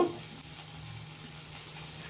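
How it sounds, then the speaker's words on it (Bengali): Small fritters of taro stolons sizzle softly in a little hot oil, a faint, steady crackle that carries through the whole moment. "ছোট্ট ছোট্ট করে আমি বড়াগুলো সব ভেজে নেবো"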